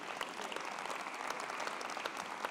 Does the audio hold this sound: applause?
yes